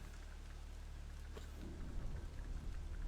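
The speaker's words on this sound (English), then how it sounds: "The rain's letting up." In the video game Don't Starve, a thunderstorm brings steady rain pattering and a low rumble of thunder, moderately loud with no voices.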